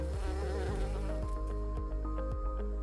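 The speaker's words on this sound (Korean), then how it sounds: "꿀벌은 자기가 화난다고 사람을 쏘면 죽습니다" Honeybees buzzing in a steady, dense drone with a few soft low thumps recurring underneath, moderately loud throughout.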